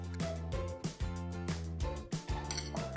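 Metal spoon clinking steadily against a bowl while tandoori marinade is stirred, a quick regular rhythm of bright, close taps with no talk.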